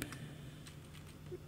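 Typing on a computer keyboard while writing in an offline LaTeX editor, a few faint, quiet key clicks spread over a steady low background hum.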